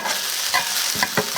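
Grated pumpkin batter is stir-fried in a pan, a steady close sizzle with several short scraping spatula strokes against the metal, no voice over it.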